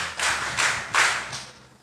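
A group of listeners claps in brief bursts, three or four swells of applause close by that taper off at the end.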